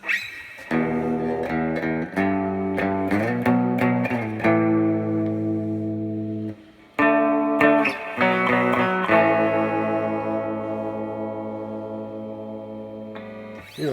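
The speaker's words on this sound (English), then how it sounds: "if we turn up the reverb," A clear acrylic electric guitar from Galveston rings out through an amp with reverb turned up, sustained strummed chords with a wide, lingering wash, each chord fading before the next is struck, heard alone.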